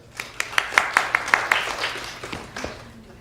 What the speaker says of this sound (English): Round of applause for Vanessa.